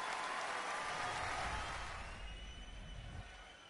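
Crowd applause in the bowling video game PBA Pro Bowling 2023, a faint, steady patter of clapping that swells at first and then thins and tapers off over a few seconds, with no talking.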